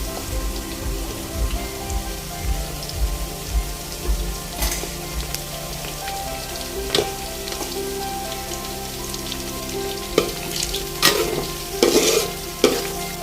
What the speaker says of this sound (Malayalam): ഇതിലോട്ട് ഇച്ചിരി കറിവേപ്പിലയും കൂടി ഇട്ട് ഒന്നും കൂടെ ഒന്ന് വറുത്തെടുക്കാം